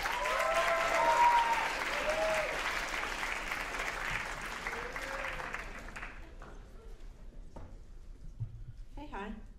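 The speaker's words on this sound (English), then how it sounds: "So please put your hands together and help me in welcoming Jessica Hopper." An audience welcoming Jessica Hopper at a writers' week event breaks into loud, sustained applause from a hall full of people. The clapping thins out and fades over about six seconds, and a few scattered voices and small noises follow.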